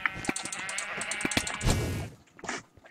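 Sheep in Minecraft bleat in several short, close bursts, fairly loud and overlapping, with game clicks and movement sounds around them.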